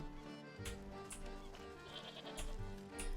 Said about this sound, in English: There's a sheep down here, too.